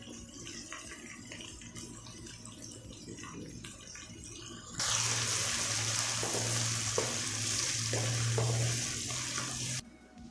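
Chopped garlic and ginger hit a hot pan for Punjabi dhaba-style mash daal; a quiet stretch gives way to a loud, steady sizzle that holds for about five seconds before cutting off, with no talking.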